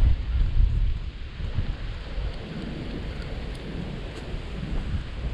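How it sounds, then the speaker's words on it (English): Strong wind buffets an outdoor feeder-fishing spot in a city centre, a steady loud low rumble with gusting roar that never lets up, no voices. "It's that windy, I can't tell what's happening."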